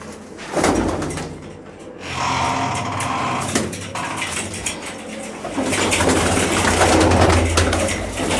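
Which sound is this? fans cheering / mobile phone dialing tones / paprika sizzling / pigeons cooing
pigeons cooing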